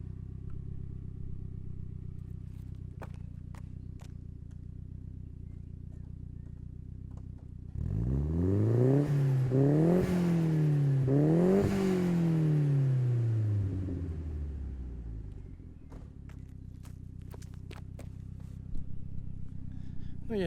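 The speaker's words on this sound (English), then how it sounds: "Some of the exhaust noise clip," Nissan S13 with a turbocharged CA18DET four-cylinder revving hard for several seconds, its exhaust note rising and falling in pitch over a low idle rumble, then settling back to a steady idle.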